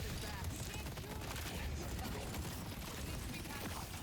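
McGinnis's turret in the video game Deadlock fires continuously, a dense, unbroken rattle of rapid shots with voices faintly mixed underneath.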